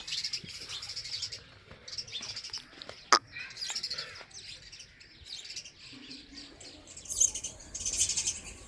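Small birds chirping outdoors beside a wheat field, with scattered light tweets and twitters at moderate distance over faint background noise and a brief sharp click partway through.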